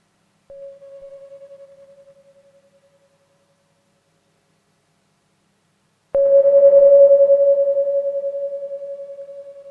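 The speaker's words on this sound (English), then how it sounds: "one thing I really like to use for this is short bleeps" Short synth bleeps from a randomized patch in Ableton: a clean steady tone sounds, fades out, then after a silent gap returns louder and buzzier with a sharp attack, pulsing slightly as it holds and slowly decays.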